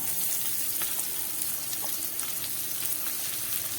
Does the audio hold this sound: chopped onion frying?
yes